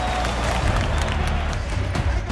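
A loud, dense crowd roars and cheers in a bull-running arena as young bulls and heifers are let in, a continuous wash of voices and clapping.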